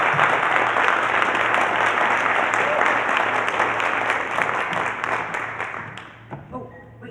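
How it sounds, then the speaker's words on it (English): Sustained loud applause from a large audience at a keynote address for the Colorado Opioid Abatement conference, steady for about six seconds before thinning out to a few scattered claps at the end. "So please give him a round of applause."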